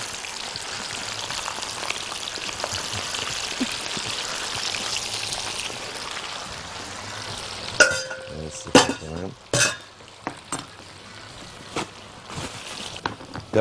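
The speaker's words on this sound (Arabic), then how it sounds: "نقوم واخدينها ونقوم حاطينها بزيت سخن" Frozen dough hits hot oil and fries with a steady soft crackling sizzle, followed by a few sharp spatters and clatters from the pan near the end.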